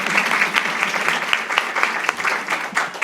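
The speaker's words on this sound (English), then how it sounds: "I think we have to clap the hand" A conference audience applauding steadily, dense clapping throughout at a fairly loud, even level with no talk over it.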